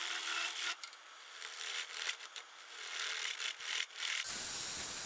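Wood being cut on a lathe: a steady scraping, rasping hiss with brief pauses, ending as the cutting stops and a low hum remains.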